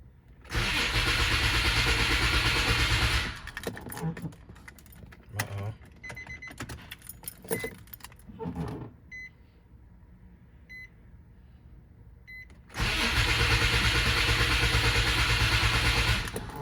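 A Nissan Maxima engine, just overhauled with an HR swap and six-speed manual, cranks and catches, then runs loudly for a few seconds. Quieter clicks and handling noises follow before the engine roars back to a steady run.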